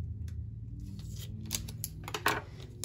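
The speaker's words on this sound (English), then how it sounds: "Let me get my scissors on it" A few quiet scissor snips and crinkles as packaging is cut open, with faint handling noise in between.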